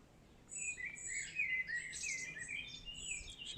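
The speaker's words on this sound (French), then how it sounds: "tu te rends compte le chant des oiseaux?" Birds sing outdoors in a steady stream of high chirps and warbling trills that overlap throughout, moderately faint against a soft background hiss, with no voices.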